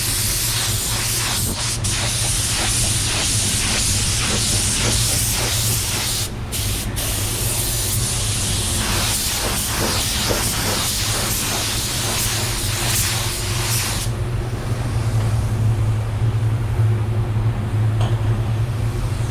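A paint sprayer hisses in a loud, continuous spray of paint, broken by a couple of brief pauses and a slight change in tone near the end, with no talk.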